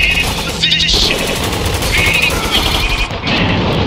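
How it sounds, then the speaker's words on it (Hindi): A machine gun in Spec Ops: The Line fires loud, rapid sustained bursts up close, amid dense game noise with a brief pause near the end. "अच्छा ये मशीन गन है"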